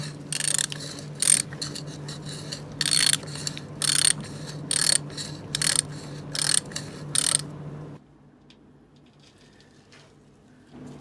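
A ratchet spanner works a part into place under a Moto Guzzi Breva 1100/1200 V-twin engine during an oil and filter change. It gives about ten short, close, crisp ratcheting bursts in an uneven rhythm, then falls quiet.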